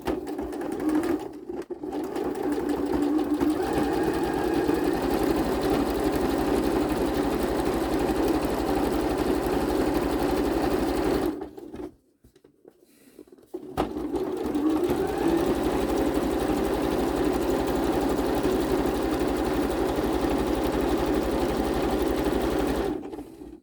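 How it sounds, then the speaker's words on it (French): Sewing machine sewing a combined zigzag and straight stitch, a steady fast mechanical whir with rhythmic needle chatter, close and loud, pausing briefly midway before resuming. "point avec zigzag et point droit en même temps."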